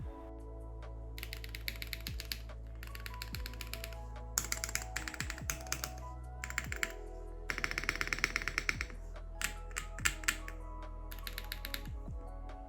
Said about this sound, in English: Here's a sound test.